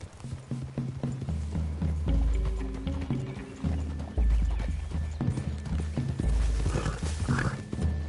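Horses clip-clopping in the video game Red Dead Redemption 2, rhythmic hoofbeats close by with heavy low thuds, continuing steadily with brief pauses and a possible whinny.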